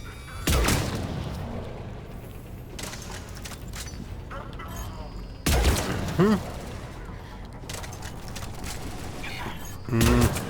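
Gunfire from a fully upgraded weapon in the video game Mass Effect 3 comes in several loud bursts with short gaps between them, set against a continuous noisy battle background.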